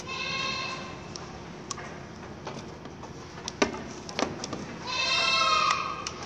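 A goat bleats loudly and repeatedly while having its overgrown hooves trimmed, with quieter clicks and handling noises between the calls and a long final bleat near the end.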